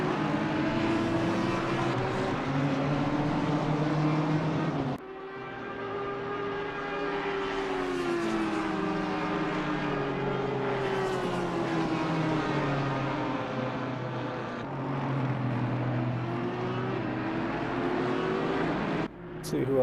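GT3 and GT4 race cars in a racing video game scream through continuous high engine revs, pitch sweeping up and down with gear shifts and a sharp cut near five seconds, loud and unbroken.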